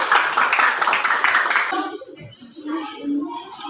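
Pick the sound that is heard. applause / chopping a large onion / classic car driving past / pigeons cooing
applause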